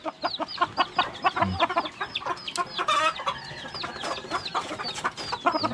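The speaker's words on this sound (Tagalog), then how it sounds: "Manok." Chickens, including young birds and a hen whose chick had an eye illness, cluck and chirp steadily at close range in a farmyard, with sharp overlapping calls throughout and no talk.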